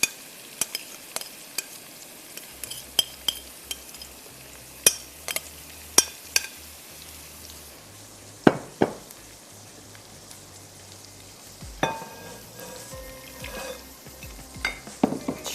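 Spice-marinated meat for tikka biryani frying in onion oil, a soft, faint sizzle broken by scattered sharp spoon clinks and scrapes against the pot, a few louder clatters later on, with no talking.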